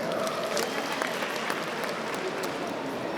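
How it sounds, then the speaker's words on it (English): A crowd of school students claps for their student council president at a public address, producing a steady wash of applause with occasional sharper individual claps, moderately loud and continuous for a few seconds. "Let's clap hands for her."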